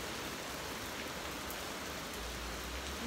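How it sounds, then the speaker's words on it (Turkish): Sudden heavy rain falls outdoors, a steady, fairly soft wash of pattering drops heard from indoors, uniform and continuous with no voices. "dışarıda inanılmaz bir yağmur yağış başladı birden biz çıkarken"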